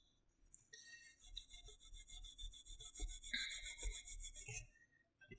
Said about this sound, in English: We got wire wool. So all we're doing is we're just polishing the surface.